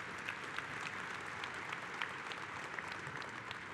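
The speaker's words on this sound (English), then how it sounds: "Please give them a round of applause if you would" Audience at a union convention claps steadily, a dense, even wash of applause held at a moderate, somewhat distant level throughout.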